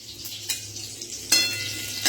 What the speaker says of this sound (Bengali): এখানে দিলাম তোমার শুকনো লঙ্কা, তেজপাতা, পাঁচফোড়ন দিলাম।